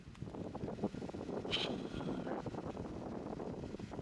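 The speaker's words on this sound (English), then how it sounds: "the wind was too much for even the sound muff on the microphone" Strong wind buffets a microphone on the US–Mexico borderlands along the Geronimo Trail, a constant low rumbling roar with gusty flutter and no voices.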